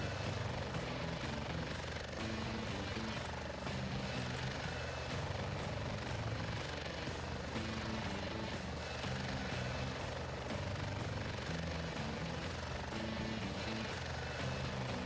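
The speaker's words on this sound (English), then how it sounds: "some helos I've not actually used yet. Let's use the KA-15." KA-15 helicopter flying in a video game, a steady rotor thrum and engine drone throughout, with faint voice-like sound mixed in.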